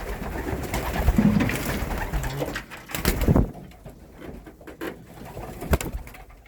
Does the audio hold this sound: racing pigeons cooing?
yes